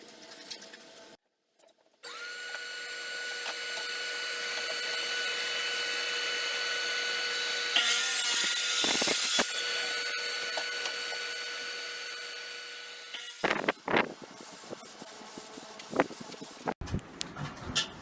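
A power tool cuts a wooden board down to a square in a woodworking shop. A steady motor whine grows louder partway through as the blade bites, then gives way to clattering handling noises.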